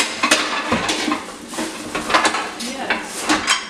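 Pots and metal cookware clank and rattle close by in a kitchen, a string of sharp irregular knocks and scrapes with faint murmuring voices in the background.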